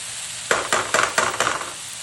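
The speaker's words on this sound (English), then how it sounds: "Our pork's been cooking for just a few minutes" Pork reheating in a pan, flattened to crisp the edges, sizzles with a run of five or six sharp hissing crackles and stirring scrapes over a steady background.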